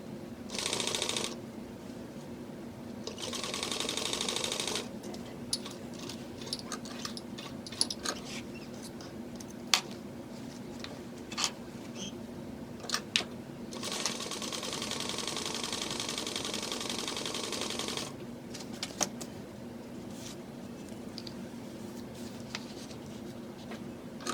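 A sewing machine stitches a seam on a harlequin bag, running in bursts of steady mechanical whirring separated by pauses with scattered clicks and handling taps, fairly quiet and close.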